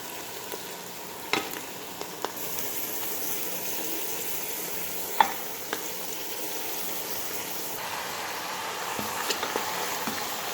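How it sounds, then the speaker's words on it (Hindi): Mutton sizzles steadily in hot oil with garlic-ginger paste for Chinioti kunna gosht, a constant close frying hiss broken by a few soft utensil clinks and stirring bumps. "अब इसके डालने के साथ ही मैं गोश्त जो है वो साथ में डाल दूँगी।"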